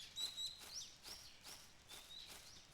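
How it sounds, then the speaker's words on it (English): A loud bird calling near a big tree in the Cineris Somnia video game, repeated high chirping whistles in a quick rhythm, clear and close with no talk. "Big tree with loud bird."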